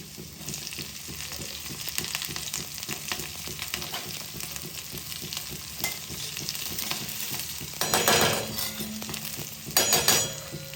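Ginger-garlic paste with cumin and mustard seeds frying in hot oil: a steady, close sizzle with crackling pops throughout, swelling into louder bursts of spattering near the end.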